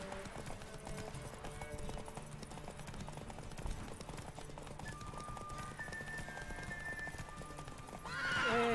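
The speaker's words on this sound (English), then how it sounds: "Kenceng banget kudanya itu" Roach the horse from The Witcher 3 gallops with steady rapid hoofbeats and a whinny, heard up close with game ambience, and a brief rising noise at the end.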